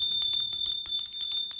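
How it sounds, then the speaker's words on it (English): A small bell rung during a tarot reading to clear energy, bright high rapid ringing strokes repeating quickly and close, sustained over the whole moment without talking. "I'm going to ring the bell"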